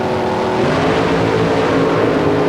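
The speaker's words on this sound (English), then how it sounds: "You hear the RPMs come up." Drag racing cars at an NHRA national event rev their engines at the staging line, a loud, continuous roar that holds steady with rising pitch throughout, with no voices over it.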